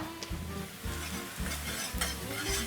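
Red chili flakes and minced garlic sizzling in oil with shallots in a pan, a steady quiet fizz with occasional stirring scrapes, close and alone.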